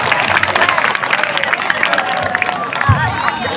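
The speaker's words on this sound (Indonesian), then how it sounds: "Sekali lagi berikan tepuk tangan yang meriah untuk nomor urut 4 atas nama Ayar Hafiz" Loud audience applause and cheering in a hall at a student leadership election debate at an Islamic boarding school, dense continuous clapping with crowd voices mixed in.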